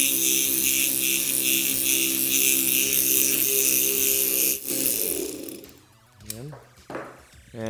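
A FlapSpeed PRO grinder whirs steadily at high speed with strong tonal hum, then spools down after about five seconds, leaving quieter mechanical sounds and brief tonal sweeps near the end.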